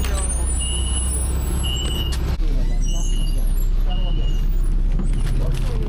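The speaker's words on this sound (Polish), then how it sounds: "Hamulce chyba nie te." A city bus in Uzbekistan brakes with a loud air-brake hiss and high squeals over a low engine rumble and road noise, heard from close by with people talking.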